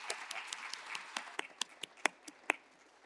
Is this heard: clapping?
yes